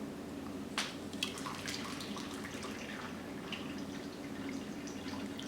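Pear juice drips through cheesecloth into a pot, faint irregular drops and small splashes over a quiet background hum.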